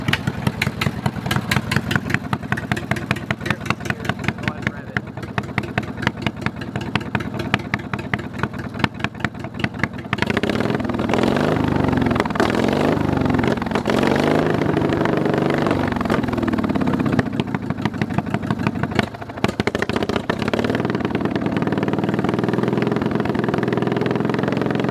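A lawn mower engine with a loud exhaust cranks and fires up, then runs with a rapid, sharp popping idle, the stuttering pulses loud and close, shifting into a rougher, fuller running note partway through.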